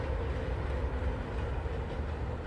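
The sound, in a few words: monorail passing at Walt Disney World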